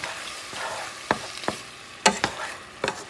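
Shrimp pancit bihon cooks in a pan, giving a steady soft frying hiss broken by several sharp scrapes and clicks from stirring.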